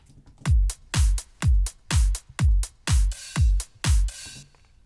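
A steady four-on-the-floor house drum beat with eight punchy kick hits, bright open hi-hats splashing between them, loud and close.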